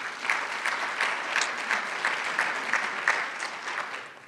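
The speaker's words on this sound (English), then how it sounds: "So please give yourselves a little round of applause if you would." Rally attendees at a community changemakers' event give themselves a round of applause, a fairly quiet, even spread of many hands clapping with no voices over it.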